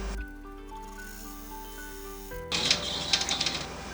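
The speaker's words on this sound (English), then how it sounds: "we're going to go ahead and stitch out the placement stitch for the center panel of this pouch." Embroidery machine sewing a placement stitch on a fabric pouch panel, a steady rapid mechanical humming pulse for a couple of seconds, then stopping into brief rustling and clacking handling noises.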